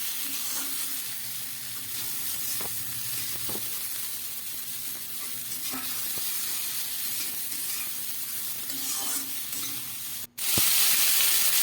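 Beans, tomato and potato fry with onion in a pan, a steady close sizzle with occasional stirring clinks and scrapes, ending in a sudden louder hiss.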